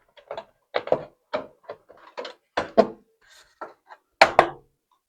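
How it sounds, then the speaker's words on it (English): A graphics card is fitted back into a PC case during a full case swap and upgrade, giving a close, irregular series of sharp plastic and metal clicks, knocks and clunks with short gaps between them and no talking. "The next thing we're gonna do is we're gonna put the GPU back in here."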